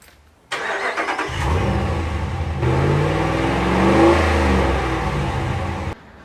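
A Ram 1500 pickup truck engine turns over and revs through a Magnaflow muffler and 5-inch black exhaust tips, a deep rumbling roar that swells and holds for several seconds before cutting off.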